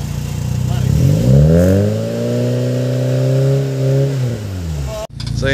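A Mitsubishi Lancer GSR engine revs up and holds high on a test drive, the rising and falling engine tone loud and close, then cutting off abruptly near the end.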